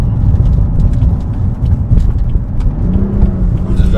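A car that is slightly heavier than a BMW M2 Competition and has a longer wheelbase is driven with paddle shifters. Its engine drones loud and close with a steady rumbling roar, and the pitch rises near the end.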